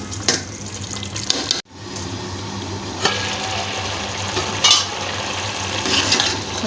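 Potatoes and fenugreek leaves (aloo methi) fry and release water in a pan while being stirred. A steady wet sizzle runs throughout, broken by a sharp scrape and brief pause, with occasional clinks of the spoon against the pan.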